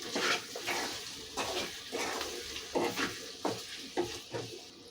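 Chili powder being stirred into a simmering taro root and egg curry, with soft repeated scraping strokes of a spoon in the pot over a faint bubbling sizzle, fairly quiet and close.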